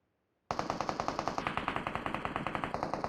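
Rapid automatic gunfire from a shooter video game, a steady loud burst of evenly spaced shots starting abruptly and continuing without pause, with no talk over it.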